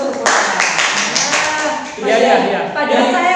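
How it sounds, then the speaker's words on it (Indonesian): A short burst of hands clapping during a talk-show discussion with a university lecturer, brisk claps close by in the first half, followed by voices talking. "Tepuk tangan dulu."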